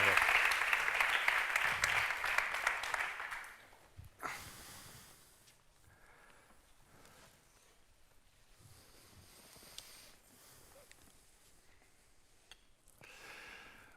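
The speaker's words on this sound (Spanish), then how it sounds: "un aplauso para ellos" An audience at an inaugural talk applauds for guests joining the table, a burst of clapping for about four seconds that then gives way to quiet room noise and faint movement.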